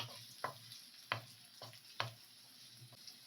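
Onions and green chillies fry in oil while a spoon stirs them, giving a soft low sizzle broken by four or five distinct scraping strokes at an irregular pace, fairly quiet and with no voice.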